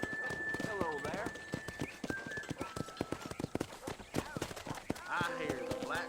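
Horses' hooves in the ranch corral of the Red Dead Redemption game, a steady clip-clop of close, rhythmic footfalls with a game character talking over them.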